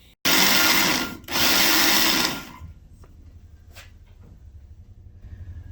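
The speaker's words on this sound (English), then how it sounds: "let me grind these two seats a little bit better" Valve seats in an engine cylinder head are ground with an old machine, two loud high whirring bursts broken by a short pause, then a quieter low hum with faint clicks.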